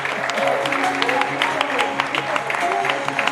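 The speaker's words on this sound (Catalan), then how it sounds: "Un fort aplaudiment." Audience applause at a Catalan sport dance competition for Caribbean dances, a steady dense clapping crowd filling the hall, loud and continuous throughout with scattered sharper claps.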